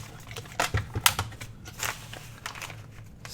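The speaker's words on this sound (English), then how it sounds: "I need to use my big cutter." A big paper cutter slices through paper in a few sharp, crisp swishes and crackles, close by, with short rustling handling sounds in between.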